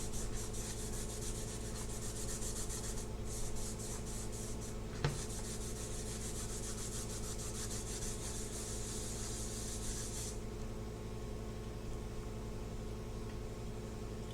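Cloth buffs wax off a small chalk-painted sign, making a steady, faint, close rubbing hiss that carries on for about ten seconds before settling into quiet.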